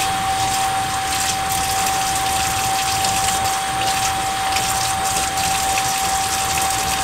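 Tap water gushes steadily into a kitchen sink during handwashing, a continuous close, loud stream with no break and no voices.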